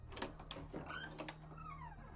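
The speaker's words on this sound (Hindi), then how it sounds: "तभी पीछे से दरवाजे पर दस्तक हुई।" Knocking on a door in a Hindi audio story: several quiet, separate raps land over a constant low hum, mixed with soft whooshing effects.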